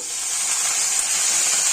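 Water poured into a hot pan of potato and okra curry gives off a loud, steady hiss of steam that holds for the whole moment, with no voices.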